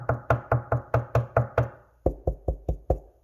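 Knuckle knocks on an MDF speaker box panel, a steady series of about eleven sharp raps: the first several bright and resonant, the last five duller and lower, close and alone.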